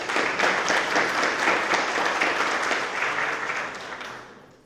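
An audience applauds warmly to welcome a speaker at a talk, with dense, steady clapping that holds for several seconds before tapering off.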